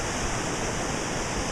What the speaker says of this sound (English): I got to where some nice water's running by.